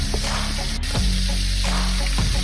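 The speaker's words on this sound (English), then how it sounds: "we fry it inside here. So like only brown it a little bit." Rabbit pieces browning in a pot over moderate heat, a steady close sizzle of frying with brief stirring scrapes, no voices.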